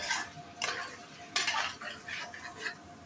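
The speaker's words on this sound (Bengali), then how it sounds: "এভাবে আমি মাংসটা কষাতে থাকব।" Spiced chicken meat stirred and fried in a pan, with a handful of close scraping and clinking strokes of a utensil against the pan over a faint background hiss, fairly quiet with no talking.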